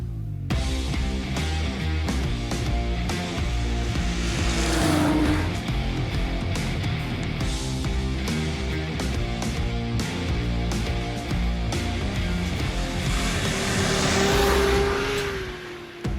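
Arctic Cat Thundercat 2019 snowmobile on a test ride, its engine droning loud and steady with rising revs and surges of acceleration throughout, no talking over it.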